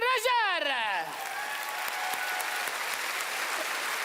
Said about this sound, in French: on applaudit Réjard.